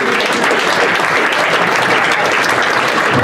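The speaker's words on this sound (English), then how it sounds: "I wasn't wishing to stifle any applause there" Steady applause from a crowd at a football club's meet-the-owners event, loud and continuous, with many hands clapping at once and no pauses.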